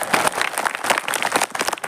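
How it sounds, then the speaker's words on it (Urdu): Loud applause from an audience at a religious gathering, dense clapping filling the whole stretch without a break. "آپ اس میجر اس فوجی کے لیے ایک بار زوردار تالیاں بجا دیں"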